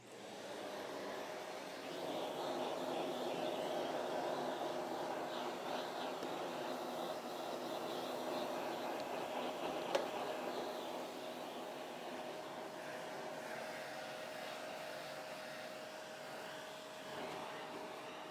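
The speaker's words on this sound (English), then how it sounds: "grab the vacuum cleaner and just get all of the big particles of loose dust" A vacuum cleaner sucks dust off a Samsung 170MP monitor, a steady whooshing drone that rises in the first seconds and holds fairly close, with a single sharp click midway and a faint tonal whine toward the end.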